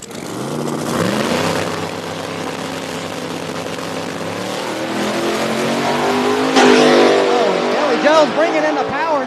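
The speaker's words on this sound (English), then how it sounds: "Bringing in the power, nice pass in the right lane, gets the win. That Camaro motivating on out there." Camaro drag race car with a big rear wing accelerating hard at Beech Bend Raceway Park, a loud sustained engine roar rising in pitch through gear changes, with an excited announcer talking over it.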